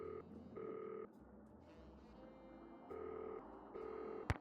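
A telephone rings for an incoming call in the Nancy Drew game Danger by Design, with two-tone electronic bursts repeating in steady pairs, fairly loud and alone, ending with a short click.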